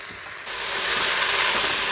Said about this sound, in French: Et puis, on va remuer.